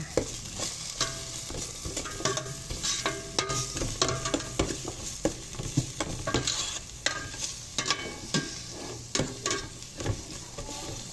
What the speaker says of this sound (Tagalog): Malurin lang natin hanggang maluto yung luya.